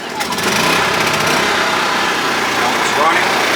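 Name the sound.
WEN portable generator engine starting and running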